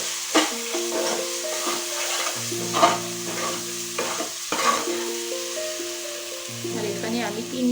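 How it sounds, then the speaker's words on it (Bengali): Ground cumin and coriander with chopped chillies stir-fried for mutton ghugni give off a frying sizzle with rhythmic scraping stirs, under steady background music. "ভালো করে এই মশলাগুলো একটু কষিয়ে নিতে হবে।"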